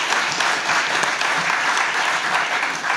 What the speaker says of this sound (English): I'd like to applaud the manufacturers in the room first off.